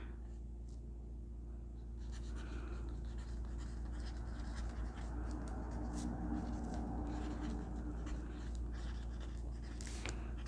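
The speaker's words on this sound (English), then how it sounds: "I'm just writing" A pen scratches steadily across paper in a junk journal, faint close-up strokes running continuously over a low background hum.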